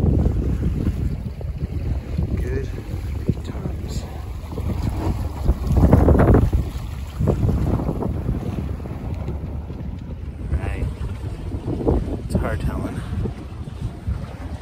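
Steady wind buffets the microphone aboard a Mini Transat sailboat racing in a doublehanded series, with rushing air and water sloshing against the hull throughout.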